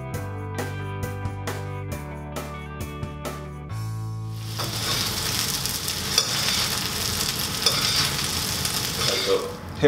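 Plaice is fried in melted butter in a pan, with a few clinks and scrapes of utensils before a dense, crackling sizzle takes over and holds steady, close up.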